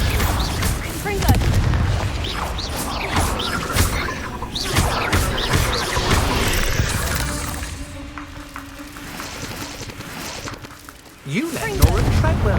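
Blasting-curse explosions in Hogwarts Legacy go off as heavy booms and crashes in rapid succession, mixed with shouted voices and combat noise, then ease toward a quieter stretch before one more sharp blast near the end.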